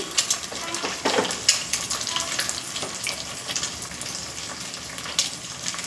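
Three beaten eggs hit a hot pan while cooking chicken fried rice, giving a soft, continuous sizzle with scattered crackles and a few louder spatters, moderately close.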